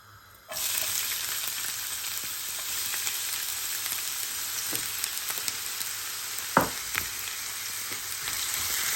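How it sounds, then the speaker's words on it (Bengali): Chopped onion hits hot oil in a pan and starts a sudden, loud, even sizzle that goes on steadily, with one or two stirring scrapes partway through, for a Bengali chickpea dish. "প্রথমে একটু তেল দিয়ে দিব, তারপর আমি একটু পেঁয়াজ কুচি দিব"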